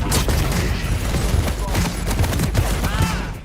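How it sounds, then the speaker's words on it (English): A Napalm Launcher fires in a video game, making a loud, dense, continuous roar of blasts and burning that fills the whole stretch without letting up. "Napalm Launcher."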